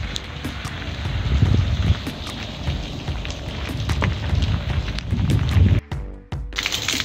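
Steady rain and gusting wind roar outdoors, with scattered drops tapping nearby; the noise briefly drops out near the end before returning.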